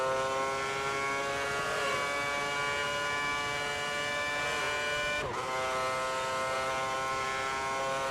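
Formula One car from the F1 2010 racing game screaming down the back straight at the Turkish Grand Prix, a loud, steady high-pitched engine whine with rising harmonics and a brief gear-shift dip midway.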